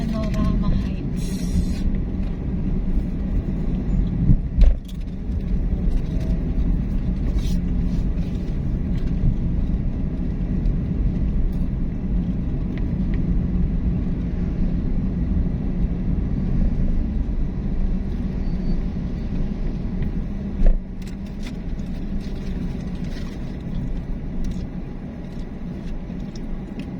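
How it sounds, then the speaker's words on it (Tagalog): Road traffic rumbles past near the Lakeshore in Mexico, Pampanga, a continuous low roar of passing vehicles and trucks with occasional louder swells, while someone talks over it. "So, guys, ang traffic po banda rito."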